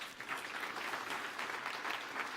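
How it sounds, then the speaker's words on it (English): Brief, fairly quiet audience clapping at a seed conference panel session, a soft continuous patter of many hands with no voices over it. "I would like you to give them a really warm round of applause to our panelists"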